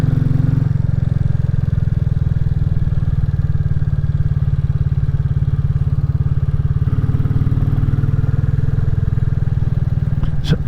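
Royal Enfield Classic 350 single-cylinder engine thumping steadily while riding through country lanes, a loud, continuous low pulsing beat with a slight shift in tone partway through.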